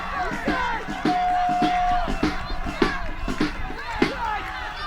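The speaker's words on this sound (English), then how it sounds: "you hear those fans cheering for the tap" Wrestling fans in an arena cheer during a women's match submission hold, a crowd roar with whoops under a commentator's excited voice, punctuated by sharp thuds from the ring.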